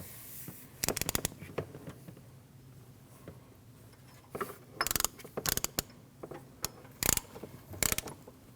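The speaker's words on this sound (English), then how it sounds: "then tighten it with your O2 sensor socket" Ratchet clicking as a socket tightens an upstream O2 sensor on a 2013-2019 Ford Escape 1.5L, coming in quick bursts of rapid pawl ticks separated by short pauses, close and fairly crisp.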